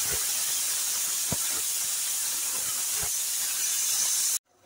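Cumin seeds and asafoetida sizzle in hot oil as a loud, dense, continuous hiss with a few faint pops, close by, cutting off abruptly at the end, with no talking.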